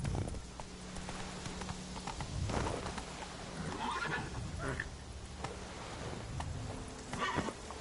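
Roach the horse from The Witcher 3 whinnies and snorts while hooves clip-clop in a steady gallop, with game music and someone talking over it.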